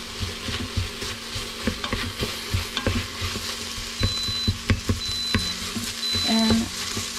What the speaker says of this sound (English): stir this in